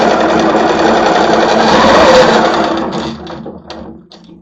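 A quilting sewing machine mounted on a frame hums loudly through steady stitching during ruler work, then slows and stops, leaving a few quiet clicks and taps.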